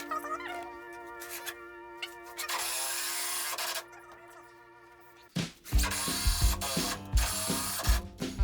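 Screws are driven into wood while a heavy-duty wooden milking stand for a cow is built: a power driver whirs in several short bursts, followed by clattering and knocking handling noises nearby.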